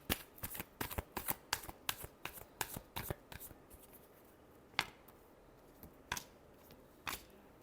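Tarot cards being shuffled by hand, a quick series of sharp riffling snaps that thins out into a few isolated slaps, close and clear with no talking.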